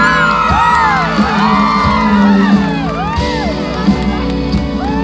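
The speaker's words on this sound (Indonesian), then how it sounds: "Kasih tepuk tangan." A loud crowd at a concert in Boalemo whoops, shouts and cheers over a steady musical backdrop, voices rising and falling throughout.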